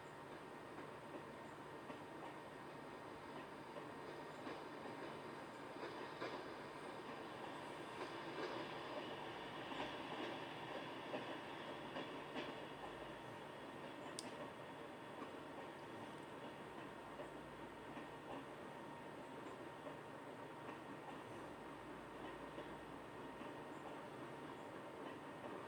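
Southern Pacific 4449, a GS-4 steam locomotive, runs with the Holiday Express Christmas train along the Springwater Trail in Oregon, a long, steady rumble with rail clatter and no voices.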